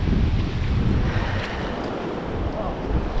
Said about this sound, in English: this is where the Salmon River meets the Pacific Ocean